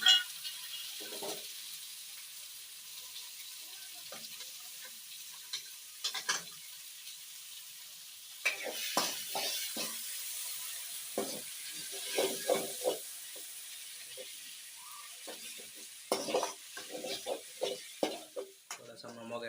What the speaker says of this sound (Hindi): अभी टमाटर को मिक्सिंग करेंगे।